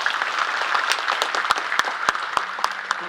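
Audience clapping at a large parenting seminar in a hall, a steady wash of many hands with a few sharper close claps standing out, no talk over it.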